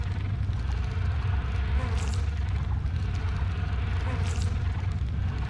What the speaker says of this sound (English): God, these fucking bees are the most annoying enemy in this whole ass game.